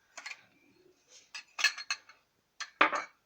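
Sugar spooned out for a lemon and banana juice: a quick series of light metallic clinks and taps of a spoon against a container, close and crisp with brief pauses.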